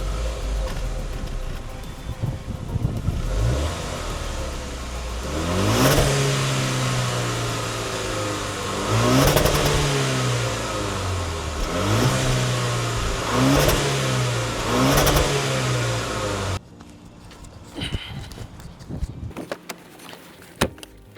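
Range Rover Velar of about 250 horsepower on a night drive, its engine revving up repeatedly through rising gear pulls, loud and close from inside the cabin, then dropping to quieter interior noise near the end.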